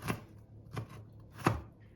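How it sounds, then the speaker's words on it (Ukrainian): Three sharp knife chops finely cutting garlic on a cutting board, spaced unevenly, close and crisp against a quiet background. "І нарізаю дрібненько."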